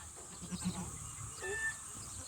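A goat on a farm that is struggling to breathe, its muzzle wrapped, gives a few faint, short, strained bleats amid quiet outdoor background noise.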